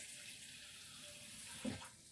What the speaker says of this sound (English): So I'm going to add a little bit of water now